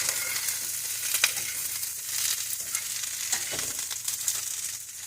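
Brussels sprouts fry in a pan with a loud, continuous hissing sizzle, while a utensil stirs them now and then with faint scrapes, heard close and alone.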